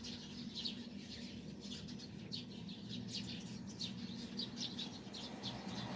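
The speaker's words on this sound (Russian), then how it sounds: "Они прям чирикают, чирикают." Sparrows chirp in trees in a rapid, scattered chatter, faint and fairly distant, over a steady low background hum.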